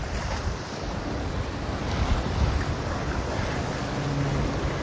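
Strong wind gusts across the mic at a Hawaii beach near Waikiki, a continuous roar blended with crashing surf, loud and steady throughout with no voices.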